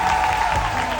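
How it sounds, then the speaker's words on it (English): A crowd at a discipleship graduation ceremony applauds in a brief, steady wash of clapping lasting about a second. "Let's give them a round of applause."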